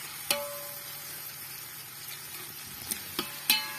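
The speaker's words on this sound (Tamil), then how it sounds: "வெங்காயம் தக்காளி நல்லா வதக்கணும்" Onions and tomatoes sauté in a pan for a village-style anchovy fish curry, giving a faint, steady sizzle with a few sharp utensil scrapes and taps near the end; no talking.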